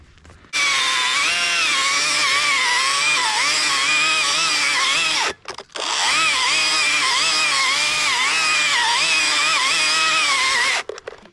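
A chainsaw cuts through a white pine tree with a loud, close, steady roar. The engine pitch wavers as the chain bites, then drops for a brief break before the cut resumes at full throttle.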